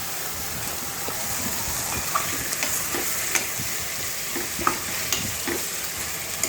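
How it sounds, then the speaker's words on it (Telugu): Marinated chicken fries in oil with onions for a chicken curry, a steady, close sizzle with scattered light clicks and scrapes of stirring and no voices. "ఆనియన్స్ ట్రాన్స్పరెంట్గా వేగిన తర్వాత ఆల్రెడీ మనం మ్యారినేట్ చేసి పెట్టుకున్న చికెన్ దాంట్లో వేసేదండి"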